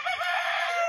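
A bull stag rooster crows nearby, one loud sustained call with a high, strained tone filling the short moment alone, no talking over it.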